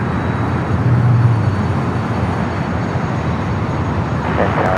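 Airliner on final approach to land on runway 25 left at Los Angeles International Airport, a loud, broad steady roar of jet noise that swells slightly early on, with faint higher tones near the end.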